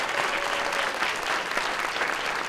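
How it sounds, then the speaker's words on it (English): Sustained applause from an audience honoring outstanding junior athletes at an elite awards ceremony, steady dense clapping throughout without a break. "Give them a round of applause"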